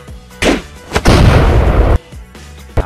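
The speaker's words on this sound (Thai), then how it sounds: "เสียงระเบิดไม่สุดอีก" A loud explosion bursts out, preceded by a short sharp bang, then a sustained roaring rumble for about a second before cutting off, followed by faint pops.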